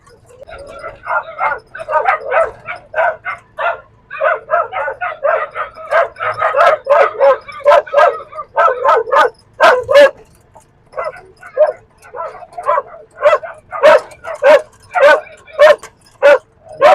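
Dogs barking near a rural road in Agno, Pangasinan, loud repeated yapping barks in quick bursts with brief pauses, some higher yips mixed in.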